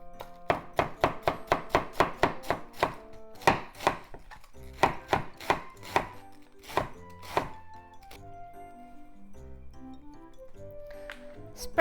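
A knife chops cabbage on a board in quick, regular strokes, then slower scattered cuts, with a soft melodic tone lingering underneath.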